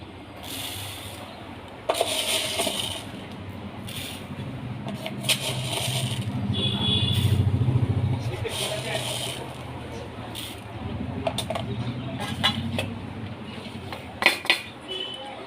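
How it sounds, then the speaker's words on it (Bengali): Mustard seeds and green chillies are ground into a paste for an ilish fish recipe, with irregular scraping and knocking strokes that rise and fall over a low rubbing sound while a voice speaks at times. "সর্ষে কাঁচা লঙ্কা আমি ভালো করে বেটে নিচ্ছি"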